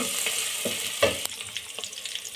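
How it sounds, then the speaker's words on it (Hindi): Chopped green chilies are added to garlic already browned in oil, giving a steady sizzle broken by scraping stirs and light clinks from a spoon against the pan. "अब लहसुन को भूनने के बाद हम इसके अंदर 2 चम्मच कटी हुई हरी मिर्चें यानी 4 अदद कटी हुई सब्ज़ मिर्चें डालेंगे और इसे अच्छे से मिक्स कर लेंगे।"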